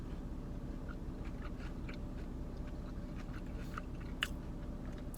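Someone bites into and chews a crunchy, spicy fried chicken nugget dunked in barbecue sauce, with faint, scattered crunches and soft chewing over a steady low background hum.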